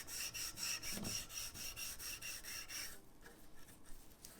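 Steady back-and-forth rubbing of colour into a twisted gut violin tailgut with an abrasive, close and moderately loud, in repeated strokes that fade to a softer, scratchier texture near the end.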